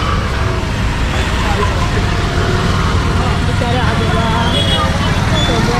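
Dense, steady traffic rumble from auto rickshaws and other vehicles on a busy market street, loud and continuous throughout with no clear individual events.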